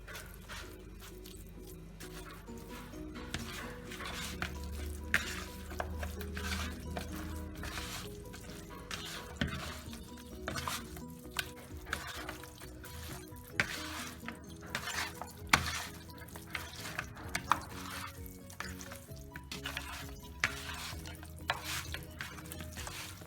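Stirring and frying of an Indian chicken gravy with garam masala and oil in a pan: steady sizzle with scraping and clinking of a utensil against the pan, continuous throughout at moderate loudness.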